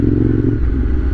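A white Ducati 848 Evo motorcycle with a red frame rumbles loudly and steadily up close, a deep continuous engine drone with a slight rough clatter and no voices.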